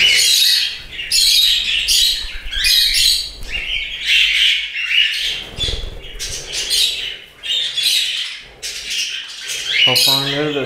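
Budgerigars and finches in an indoor bird room chirp and squawk loudly and close by, in dense overlapping bursts with brief pauses and an occasional flutter.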